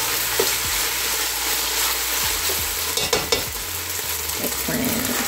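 Ground meat browning for moussaka sizzles loudly and steadily in a pan, with occasional scrapes and knocks of a stirring utensil over the constant frying hiss.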